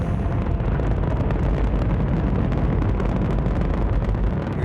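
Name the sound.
rocket launch explosion of solid boosters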